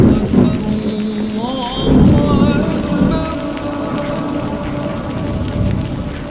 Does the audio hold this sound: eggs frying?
no